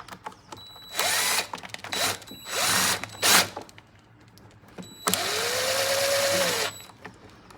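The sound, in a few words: power drill screwing in screws during a Stihl BR550 service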